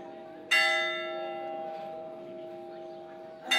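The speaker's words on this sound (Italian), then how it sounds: "Suonò la campana per annunciare che i tedeschi erano fuggiti." A church bell tolls in wartime Sicily, struck loudly once with a long ringing decay, then struck again at the end; the tone is clear and alone.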